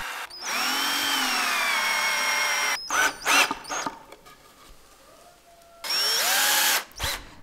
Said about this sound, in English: And then screw the two planks together.